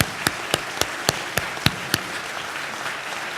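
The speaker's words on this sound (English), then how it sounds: "And a round of applause for all of them for being here tonight." Indoor audience applause for mayoral debate candidates: a dense, steady wash of clapping with a few sharp, louder individual claps standing out in the first two seconds, then continuing evenly.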